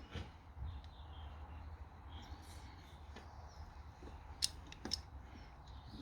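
Insulation sleeve being cut from a power cable during a 2000-watt pure sine wave inverter install in a garage, a few faint crisp snips with two sharper clicks near the end, heard close over low steady background hum.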